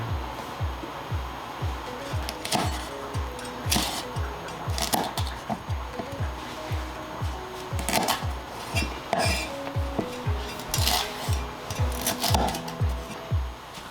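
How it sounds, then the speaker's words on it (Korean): A knife slicing Cheongyang green chili peppers lengthwise on a board for a Korean-Chinese pepper japchae rice dish, giving a steady run of quick, close, soft cuts under faint kitchen noise and occasional clinks. "청양고추는 길게 썰어주시고"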